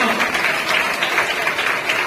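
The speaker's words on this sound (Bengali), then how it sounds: "এটা হাততালি হোক।" A gathered crowd at a school event auction claps together in a short, even round of applause after the first item is sold, close and full, with a voice faintly underneath.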